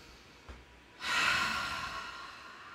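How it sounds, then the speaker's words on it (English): A person lies flat on a floor mat, arms out in a T, and breathes: a soft faint intake, then a longer breathy exhale through the mouth that fades slowly. "Take a big inhale here and exhale it out your mouth"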